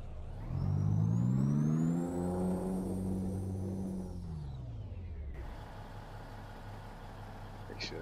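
A heavy truck engine in Euro Truck Simulator 2 revs up and pulls away, its rising drone loud and near at first, then settling into a lower steady hum as the truck gets under way.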